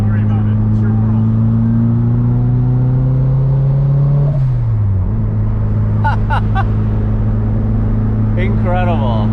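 An SR20 engine-swapped Datsun 240z revs loudly and steadily up and down, its droning note sliding between pitches with brief throttle blips, close by with people talking over it.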